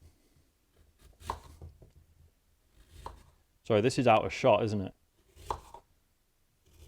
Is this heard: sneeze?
no